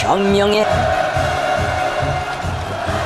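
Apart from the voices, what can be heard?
crowd cheering as Kim Jong Un walks the red carpet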